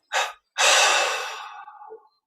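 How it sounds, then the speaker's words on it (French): A person in guided meditation draws a sharp breath in, then lets out a long, loud, close exhale that tapers and breaks into a brief final puff. "on prend une inspiration profonde, on expire en 3 fois"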